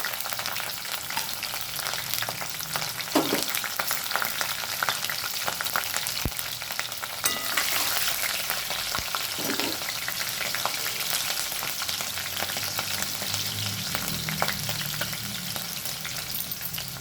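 Urad dal, cumin and green chillies fry in oil for a taro root pulusu, producing a dense, continuous crackling sizzle that holds steady throughout, with a couple of faint knocks of a utensil.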